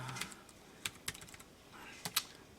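Quiet, quick keystrokes on a computer keyboard as numbers are typed into an Excel sheet, coming in short uneven bursts with no talking.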